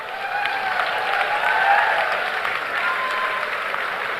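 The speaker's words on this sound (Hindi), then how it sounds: "बाकी लोग इनके लिए जोरदार तालियों से इनका अभिनंदन करें" Loud, sustained applause from a large audience at a company's 14th anniversary celebration, dense clapping filling the hall evenly from start to finish without a break.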